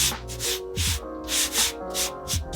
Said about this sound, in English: Rub the extra flour off of there.